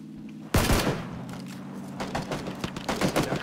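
Gunfire in PUBG, a sudden close, loud burst of rapid shots after a half-second of low hum, followed by continued rattling fire of varying intensity through to the end.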